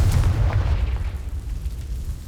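A fire explosion spell going off in the wizarding video game Hogwarts Legacy, a loud, deep booming blast with a rumbling tail that slowly fades, no voices.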